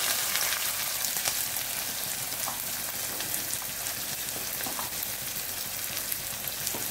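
Two large, finely chopped onions hit hot oil with spluttering mustard seeds for an egg poriyal, giving a steady, crackling sizzle with light popping throughout and no talk.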